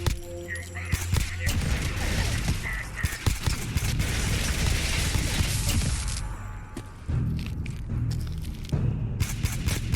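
Dense, sustained gunfire from a gunner in Fallout 4, rapid shots and booms layered continuously for the whole stretch with brief gaps near the end, loud and close, with voices mixed in.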